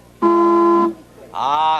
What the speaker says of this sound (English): It's nice to hear loud air horns like that.